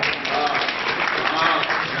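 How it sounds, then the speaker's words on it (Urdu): An audience at a mushaira, an Urdu poetry recital held in memory of Muhammad Hanif Saqi, breaks into steady, dense applause. A voice speaks over the clapping. "تو آپ سب کی بھرپور تالیوں میں"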